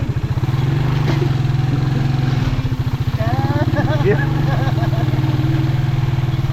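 A Rusi 125 motorcycle engine putters steadily at close range with a rhythmic low thrum while people talk over it.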